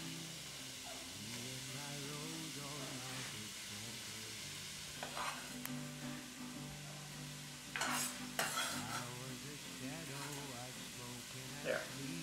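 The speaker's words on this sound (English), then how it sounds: "we're going to put this onion right in. It's sizzling a little bit" Chopped onion sizzles softly in a pan over moderate heat, with a spoon stirring and scraping, while someone talks over it.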